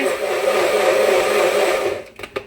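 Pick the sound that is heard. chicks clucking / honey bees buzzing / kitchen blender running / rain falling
kitchen blender running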